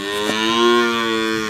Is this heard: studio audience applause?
no